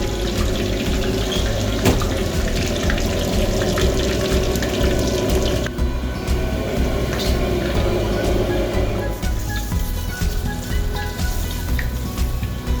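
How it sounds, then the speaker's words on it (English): Gujia dumplings, chocolate-filled, deep frying in hot oil: a steady, dense sizzle and bubbling that runs unbroken and fairly loud for the whole stretch, with no talking. "So we will be adding this in oil to crispy fry it. And here goes the gujia."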